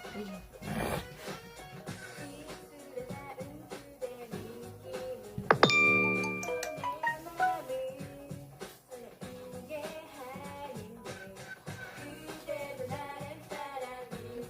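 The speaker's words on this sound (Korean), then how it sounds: "문자 왔어." A phone gives a short, bright text-message chime that rings out briefly and decays, rising above a quiet background of ongoing low sounds.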